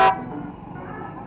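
A brief, loud toot from a big aftermarket horn on a Yamaha NMAX scooter at the start, then a low engine idle rumbling on afterward.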